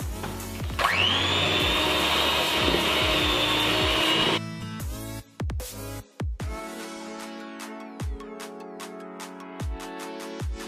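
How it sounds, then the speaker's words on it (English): A handheld electric mixer whirs loudly and steadily through playdough for about four seconds, then cuts off, leaving soft thumps and knocks of the bowl and dough. "I'm going to start with the handheld mixer and then we're going to switch."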